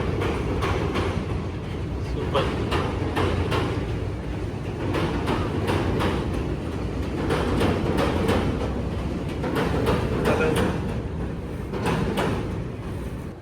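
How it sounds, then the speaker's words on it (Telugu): A metro train runs along an elevated track overhead in a Chinese city, a loud continuous rumble with repeated rhythmic clacks as it passes, and a voice briefly speaks once. "ఇక్కడ చూడండి పైన మెట్రో వెళ్తుంది"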